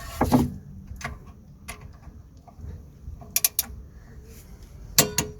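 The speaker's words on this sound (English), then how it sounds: "just gonna use the torque wrench to torque up the clamp bolts" Torque wrench tightening the brake caliper clamp bolts on a Vauxhall Opel Astra during a rear pad and disc change, heard as a few sharp mechanical clicks and creaks spaced out against a quiet workshop background.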